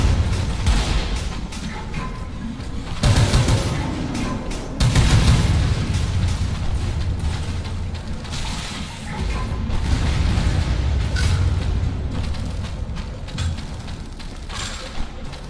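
Rocket launcher blasts and mechanical clatter in a first-person shooter game, several loud booming hits spread across a steady, busy background of combat noise.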